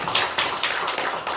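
A church congregation clapping together during an afternoon worship service, a brisk even run of close, crisp hand claps with no talking.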